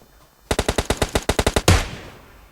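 Rapid gunfire in PUBG Lite: a burst of about twelve loud, evenly spaced shots ends in a heavier blast that decays into a short echoing tail, close and loud with no voices.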